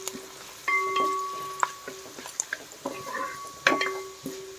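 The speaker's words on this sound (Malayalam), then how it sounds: "എന്നിട്ട് ഇതൊന്ന് കരിഞ്ഞു പോകാതെ നമ്മൾ പെട്ടെന്ന് എണ്ണയിലൊന്നിട്ട് വഴറ്റിയെടുക്കാം, മൂപ്പിച്ചെടുക്കാം." Fenugreek powder sautéed briefly in hot oil for mixed achar, a soft, quiet sizzle broken by several sharp clinks and scrapes of a spoon against the pan.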